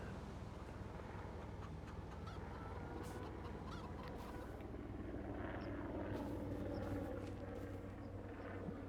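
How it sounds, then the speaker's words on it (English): A faint, distant helicopter drone in a video game hums steadily in the background, with a low rumbling wash and scattered soft clicks. "I'm hearing a helicopter, but I'm not seeing one. I hear it go by every so often"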